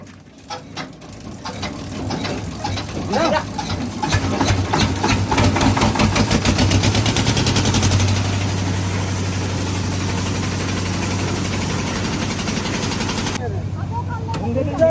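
A concrete mixer churns and rattles steadily with a rhythmic grinding clatter and low engine drone, running continuously for many seconds while people talk nearby at a house roof-casting site.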